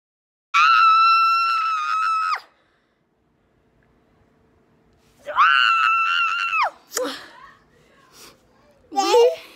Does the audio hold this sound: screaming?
yes